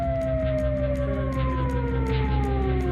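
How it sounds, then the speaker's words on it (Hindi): An air raid siren wails across Israel during a missile attack from Iran, a loud sustained tone slowly sliding downward in pitch, with a steady rhythmic pulsing underneath. "इजराइल में सायरन का अलर्ट बजने लगा।"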